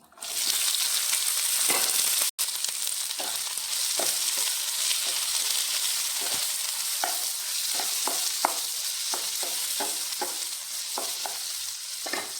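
Tomatoes and okra sauté in a pan for a Kerala chammanthi, a steady loud sizzle with repeated spoon stirs and scrapes throughout.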